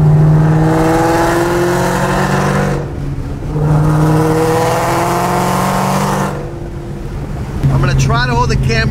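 Shelby GT500 running on E85 fuel, the engine revving hard in sustained rising pulls with brief dips at gear shifts, loud and close from inside the car, with wind roar and a voice heard near the end.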